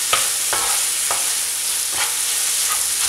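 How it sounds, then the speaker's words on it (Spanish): Noodles (fideos) stirred in a hot pan after wine has reduced, a loud continuous sizzle with several distinct scraping strokes of the spoon, close up. "se le añade los fideos y se remueve muy bien para que todo se ligue"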